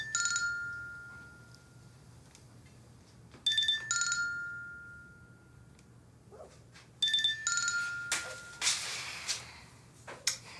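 A mobile phone rings for an incoming call, its electronic ringtone repeating in three bursts with quiet gaps, fairly clear and close, followed by faint handling and rustling at the end.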